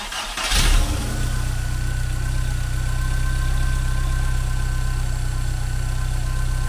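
A VW Golf Cabriolet, just fitted with a new timing belt and auxiliary belts, cranks briefly and catches, then settles into a steady, even idle that holds close and loud to the end.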